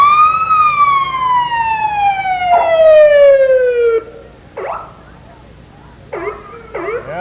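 Neodesha EMS and fire unit siren at a Christmas parade, a loud descending wail winding down over several seconds, followed by short whoops and yelps with quiet gaps between.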